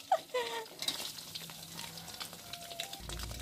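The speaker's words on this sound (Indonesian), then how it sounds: "nah ini telurnya saya orak arik teman-teman saya orak arik telurnya" Eggs are scrambled and fried in a pan for village-style fried rice, giving a soft, continuous sizzle with light stirring scrapes and a few clinks early on, heard alone and fairly quiet.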